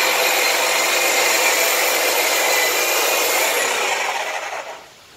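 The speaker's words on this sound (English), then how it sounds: "I'll get to trimming with the hedge trimmer." A hedge trimmer buzzes steadily and loudly close by as it trims an olive bonsai stump, then winds down and cuts off near the end.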